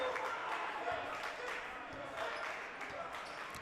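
A high school boys' basketball crowd in a gym, Walled Lake Western against South Lyon East, boos after an air ball: a steady, dense roar of many voices that holds at an even level throughout.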